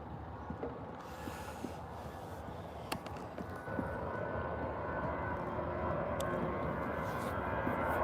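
Aer Lingus jet aircraft at Birmingham airport, a faint distant broadband engine roar that swells slightly halfway through, steady under outdoor ambience with a few light clicks.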